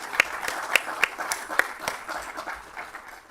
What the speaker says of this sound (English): Please, can we have some applause for our new Academic Affairs hire?